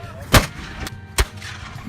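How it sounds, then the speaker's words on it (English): Two heavy booms from cannon fire on a beach at sunset, sharp and loud, roughly a second apart, each with a brief rumbling tail over faint background noise. "I get to watch some more cannon blasting on the beach as the sun goes down"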